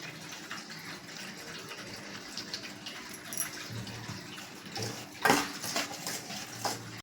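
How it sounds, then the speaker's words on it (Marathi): Faint clinking and sloshing in a bowl as semolina dosa batter is stirred with water, with a louder scrape midway; quiet, close, no talk. "पाणी घालून मी मिक्स करून घेते."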